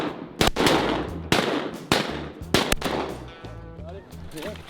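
Shotguns fire at ducks over an Arkansas slough: several loud, close blasts come in quick pairs and singles, each with a booming tail, followed by quieter wet, watery noise.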